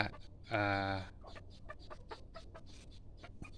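A rooster gives one loud, harmonically rich crow of about half a second, followed by a run of short, scattered clucks and pecking clicks at moderate distance.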